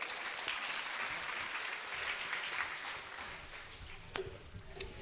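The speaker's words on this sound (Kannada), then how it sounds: "ಎಲ್ಲರೂ ಇನ್ನೊಮ್ಮೆ ಜೋರಾಗಿ ಚಪ್ಪಾಳೆ ತಟ್ಟಬೇಕು" Applause from an audience at a live religious gathering with a swami's blessing address, a steady distant wash of many hands clapping at low level throughout, with no talk.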